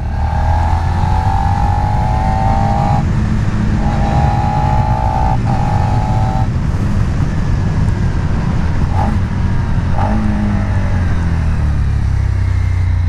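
Suzuki SV650A motorcycle being ridden, its engine droning steadily and loudly throughout with shifting pitch as it revs and changes gear, plus heavy wind and road rumble close to the mic.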